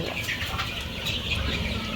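Tiger breed chickens and month-old chicks cluck and peep faintly in a poultry enclosure, under a constant hiss of background noise.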